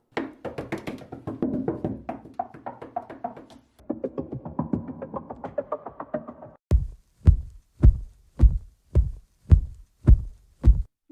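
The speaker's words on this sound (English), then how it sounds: "A heartbeat, and this is how it sounds in the film." A Foley heartbeat sound effect thumps in a steady run of deep, loud double-pulse beats, heard alone after a stretch of busy, textured sound that leads into it.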